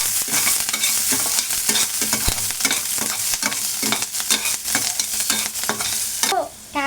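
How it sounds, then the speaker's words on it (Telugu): Green chillies and capsicum frying in hot oil for egg fried rice, a loud continuous sizzle and crackle broken by frequent stirring scrapes of a spoon against the pan, with no talking. "పచ్చిమిర్చి వేసుకొని ఫ్రై అనేది చేసుకోవాలి ఫ్రెండ్స్. ఇలా ఆయిల్లో ఫస్ట్ ఫ్రై అనేది చేసుకోవాలి."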